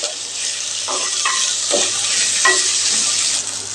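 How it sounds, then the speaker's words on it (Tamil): Banana flower stirred and sautéed in a hot pan for a thuvaiyal chutney: a steady close sizzle with repeated scraping stir strokes, no voices. "வாழைப்பூ ஒரு கைப்பிடி அளவு போட்டுக்கலாங்க இதையெல்லாம் நல்லா கலந்து விட்டுறலாங்க அது கொஞ்சம் நேரம் வதங்கி வருட்டுங்க"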